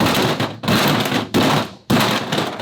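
Harsh metallic clattering and grinding of broken parts inside a blown McLaren engine churn loudly in a few continuous bursts, each cut off abruptly before starting again.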